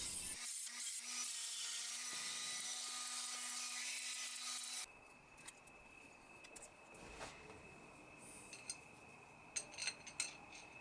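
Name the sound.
CNC mill cutting a shaft key with a 3mm end mill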